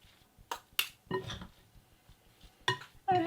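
Cornbread batter stirred in a bowl with a spoon, gluten-free mix of flour and baking powder, giving a few sharp clinks and scraping knocks against the bowl, close and fairly quiet, without talk.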